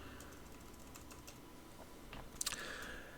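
Quick bursts of typing on a computer keyboard, with a scattering of light keystrokes followed by a louder flurry of clacks near the end, close and clear with no talking.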